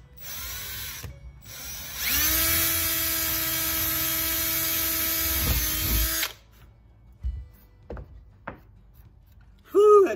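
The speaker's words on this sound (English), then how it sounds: "So now I'm going to start to drill." A Milwaukee power drill bores into deer antler, a steady high-pitched whine held for about four seconds with a grinding undertone, then cutting off, followed by a few faint clicks and handling sounds.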